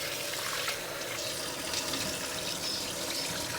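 Soaked lentils and dal washed by hand in water, a continuous close splashing and swishing of water and grains with no pauses.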